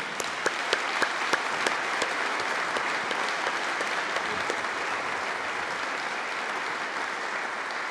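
Warm, sustained applause fills a room at a sports awards ceremony. The clapping is dense and steady from start to finish, with a few sharper claps standing out near the microphone, and no one speaks.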